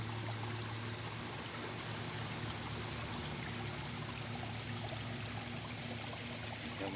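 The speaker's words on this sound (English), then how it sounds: "See how it filters the water out?" Water pours from a pond filter into a small waterfall pond, making a soft, steady rush and trickle that runs on without a break.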